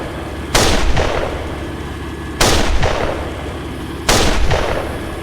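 Three heavy gunfire impacts sound in a Steel Beasts Pro PE tank simulator battle, each a sharp loud crack with a short rumbling tail, spaced about two seconds apart, with no talking.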